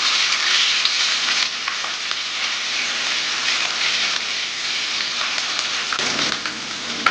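Bitter gourd sizzles loudly in hot oil with curry leaves as it is stirred, a steady, bright hiss with occasional scraping of the spoon, close and continuous without talk.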